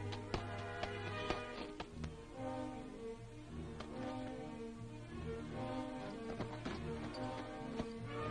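A horse walks in a 1937 period film, its hooves making an even clip-clop of sharp knocks over a humming, crackly old soundtrack, with no voices.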